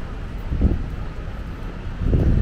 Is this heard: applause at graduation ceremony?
no